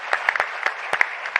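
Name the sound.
audience applause for the panel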